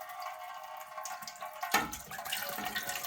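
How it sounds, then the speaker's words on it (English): Kombucha starter tea pours into a fermenting vessel holding a SCOBY, a soft steady liquid splash that swells midway and continues to the end, close and fairly quiet. "I'm going to pour some of my starter tea in there that I need to get this"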